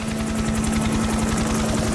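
A cartoon helicopter from the Street Fighter animated series thuds with fast, even rotor chop over a steady engine whine, loud and close throughout with no voices.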